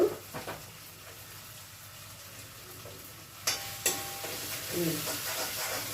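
Ginger paste frying in a pan for a prawn tomato masala curry, a steady soft sizzle and hiss with a few louder stirring scrapes and clinks partway through.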